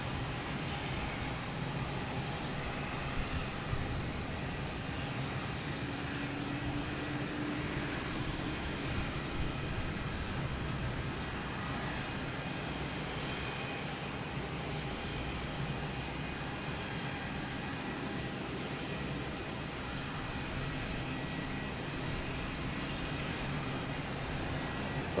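Airbus A340 airliner at Boston Logan Airport, a steady, broad jet engine roar holding fairly loud and even throughout, with no voices over it.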